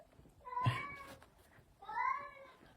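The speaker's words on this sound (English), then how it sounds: "it's my cats in the background" Two drawn-out meows from domestic cats in a quiet indoor room, one after another with a short pause between, moderately close and alone without talking.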